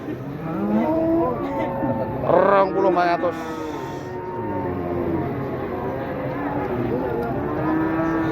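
Cattle and young calves moo repeatedly at the Wirosari livestock market, several drawn-out calls rising over a crowd murmur while someone talks nearby.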